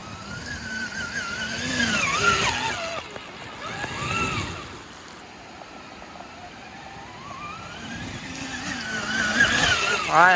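Electric off-road motorcycle on a test run, in 250 mode, a rising and falling high-pitched motor whine that swells as it passes and climbs, fading mid-run before building again, with wind noise.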